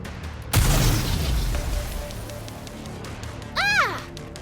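In the video game Nikke, a homemade explosive goes off with a loud, sudden boom that rumbles and fades, followed later by a rising whistling streak.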